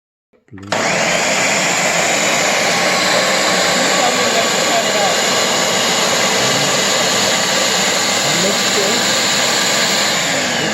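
A loud, steady whirring roar of a blender running continuously at high speed for a lemon pie filling, filling the whole clip after a brief quiet start.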